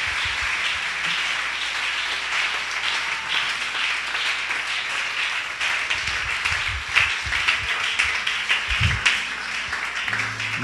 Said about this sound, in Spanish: Póngase en pie, pero aplaudiendo al Señor.